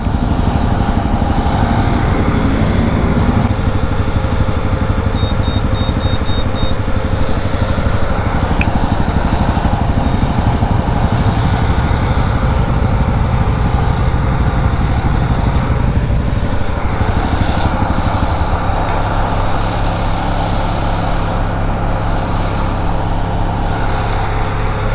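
Honda Grom motorcycle engine running steadily, close and loud, with a constant thrumming note throughout and slight shifts partway, no talking.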